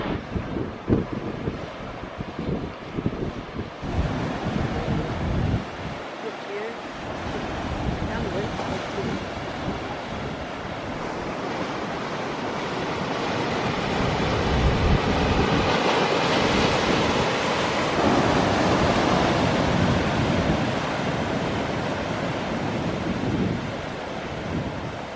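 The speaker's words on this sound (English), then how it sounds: "A bit breezy today, hope you can hear me." Strong wind buffets the microphone on the pier at Porthleven, Cornwall, mixed with surf and waves washing below, a loud continuous roar that builds and holds for a long stretch.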